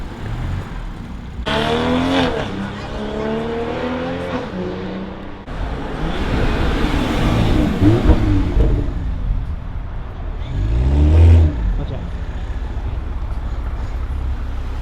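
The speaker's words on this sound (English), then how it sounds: "You can actually hear the intakes better when the car's under load." A car engine pulls hard under load, the intake roaring and whooshing and the turbo spooling as revs climb in repeated surges, loud and close.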